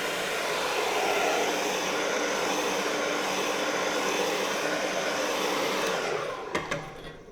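A heat gun warming car wrap vinyl blows with a loud, steady roaring hiss, then a few sharp handling clicks and taps as it winds down.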